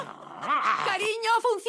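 Dogs bark and whimper in a brief, close burst in a Spanish film trailer, a few short yelps and a growl-like bark heard clearly over a quiet background.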